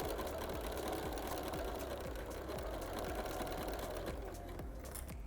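A sewing machine stitches soft minky fabric for a baby's cloth book, giving a steady, close mechanical whir with a rapid rhythmic needle knock that runs unbroken throughout.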